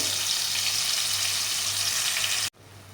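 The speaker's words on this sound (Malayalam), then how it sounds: "കടുകും ഉലുവയും പൊട്ടിക്കഴിയുമ്പോൾ നമുക്ക് നേരത്തെ ക്രഷ് ചെയ്ത് വെച്ചിരിക്കുന്ന ചെറിയുള്ളി വെളുത്തുള്ളി ഇഞ്ചി പച്ചമുളക് എന്നിവ ചേർത്ത് കൊടുക്കാം" Crushed shallots, garlic, ginger and green chili frying in hot oil after mustard and fenugreek seeds for a sardine curry, a loud dense sizzle that cuts off abruptly near the end.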